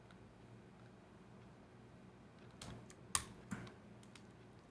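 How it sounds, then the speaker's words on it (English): A cat presses keys on a computer keyboard, giving a few faint, scattered clicks and taps near the end of an otherwise quiet stretch. "cat, let's not eat the pause button off my keyboard"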